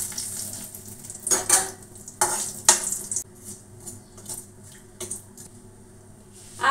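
Bay leaf with fenugreek, fennel, black mustard and radhuni seeds dropped into hot oil for a tempering in bitter dal with bitter gourd, giving bursts of sizzle and spluttering with clinks of a pan and utensil, loudest in the first three seconds.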